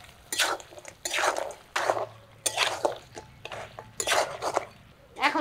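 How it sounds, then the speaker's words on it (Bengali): Spice paste of ground ginger, onion and garlic being stirred into mutton head and leg pieces in a pot, scraping and clinking in repeated strokes, close by, with brief pauses between them. "এটা নেড়ে নেড়ে মিশিয়ে দিই"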